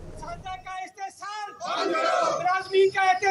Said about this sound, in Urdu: احتجاج میں شریک اساتذہ کے مطالبات کے حق میں شدید نعرے بازی کی گئی